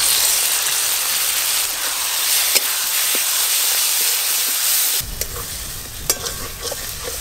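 Spice paste with ground tomato being sautéed in a pan for a fish curry, a loud, steady close-up sizzle with occasional sharp scrapes of stirring and a shift in texture partway through.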